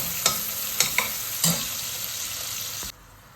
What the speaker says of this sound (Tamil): சேர்த்து நல்லா வதக்கி விட்டுக்கோங்க